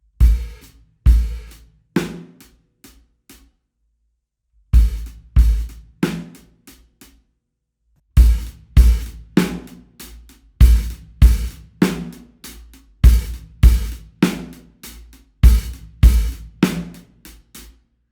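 A repeated drum groove with punchy bass drum kicks and sizzling open hi-hat hits, played in bars with a pause between phrases.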